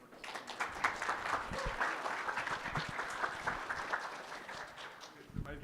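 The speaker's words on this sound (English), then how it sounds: "So now we can do the round of applause" A conference audience gives a round of applause in a session room, steady scattered clapping lasting several seconds with a few louder claps near the end.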